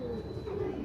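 Pigeons coo softly in a low, throaty murmur, faint and close, in a short stretch with a little background hum.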